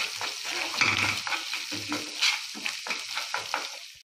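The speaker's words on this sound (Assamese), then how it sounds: "এতিয়া এইখিনি দুই মিনিটমান সময় ভাজিব লাগিব" Spice masala for matar paneer frying in oil in a pan, a close, steady sizzle broken by scraping stir strokes, loud and alone until it cuts off.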